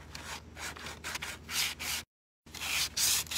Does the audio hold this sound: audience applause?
no